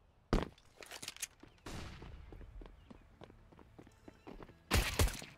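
AK rifle fire in Counter-Strike: Global Offensive cracks out in sharp, loud bursts at the start and end, with scattered quieter shots and clatter between them.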